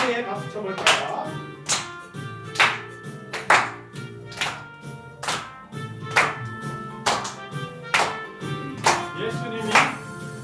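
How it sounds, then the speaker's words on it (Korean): Church congregation at a Sunday service clapping hands in a steady rhythm, sharp claps roughly once a second over soft singing and music. "제일 예쁘게 박수 쳐볼까요?"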